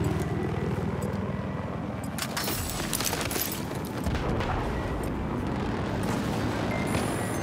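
Helicopter in Battlefield 4 gameplay, a steady thudding rotor roar filling the scene, mixed with gunfire bursts and booms of combat, loud and continuous with no voices.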